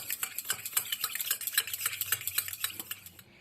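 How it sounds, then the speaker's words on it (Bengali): A spoon beats a little white oil and water together in a bowl, making a quick, steady series of light clinking strokes that stays close and fairly quiet and fades out at the end. "এবার তেল আর জল ভালো করে মিশিয়ে নিচ্ছি"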